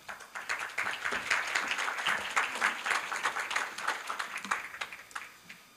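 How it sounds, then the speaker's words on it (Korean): Sustained audience applause fills a university business school event hall in Korea as a startup CEO is welcomed to the stage, a dense, even wash of many hands clapping at steady volume that thins slightly toward the end. "박수로 맞아주시기 바랍니다"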